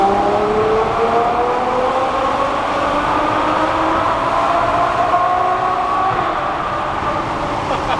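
A McLaren 570S engine roars continuously nearby in a tunnel, its pitch climbing under hard acceleration as the rear wheels struggle for traction, with a booming, enclosed echo and a constant rushing noise.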